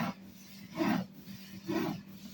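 Börek dough, rolled out with starch, is worked thin by hand in a kitchen. Two soft, rhythmic rubbing strokes swell and fade about a second apart, faint and close. No one speaks.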